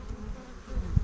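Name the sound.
drone honeybee buzzing at the hive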